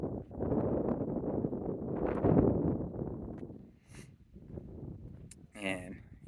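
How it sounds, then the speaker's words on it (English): Wind buffets the microphone outdoors beside a 2022 Toyota 4Runner TRD Off-Road, a loud low rumbling gust that eases and returns while someone talks over it. "It's a little windy today."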